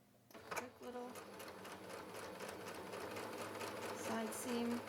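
A sewing machine stitches a side seam on a handmade cross-stitch project bag, a steady mechanical whir running for several seconds close to the microphone, with a person talking over it.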